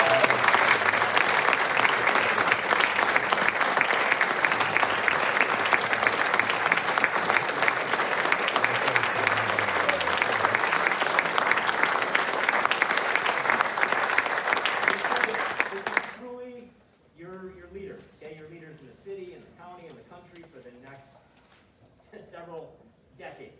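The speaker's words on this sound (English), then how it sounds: "give this group one big round of applause." Loud, sustained applause from an audience at a senior awards ceremony, dense clapping for about fifteen seconds before it cuts off and a voice begins speaking.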